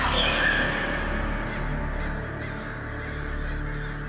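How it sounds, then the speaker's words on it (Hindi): Crows caw loudly and continuously as a flock heads toward a yajna ritual fire site, with harsh overlapping calls that fill the whole stretch and no one speaking. "सारे के सारे कौवे तो यज्ञ स्थल की ओर बढ़ रहे हैं"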